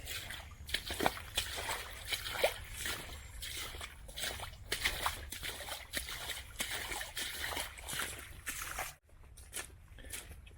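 Boots slosh through standing water on the Ocean to Lake Trail, part of the Florida Trail, in a steady rhythm of close splashing steps with a brief pause near the end.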